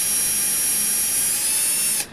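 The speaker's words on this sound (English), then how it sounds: "I'm going to start out with a 1/16 drill bit. Drill straight down the rolled over post." A small power drill with a 1/16 bit whines steadily and loud while boring straight down into a rolled-over casting post on a 1972 Ford Ranchero part, then winds down abruptly at the end.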